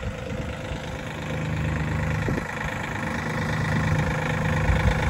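A tractor engine idles nearby with a steady low chugging rumble, holding a constant pace throughout.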